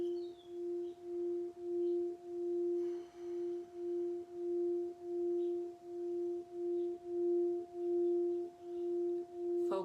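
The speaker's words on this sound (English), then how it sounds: "the tones and the frequencies coming from the crystal bowl" Crystal singing bowl sustains a steady pure tone with a faint higher overtone, pulsing gently in slow regular swells across the whole stretch, calm and close with no voices.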